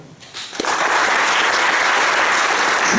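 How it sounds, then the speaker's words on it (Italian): Audience at a political gathering in Preganziol breaking into applause: clapping swells within a second into a dense, loud, steady ovation that continues to the end. "per cui chiedo un applauso"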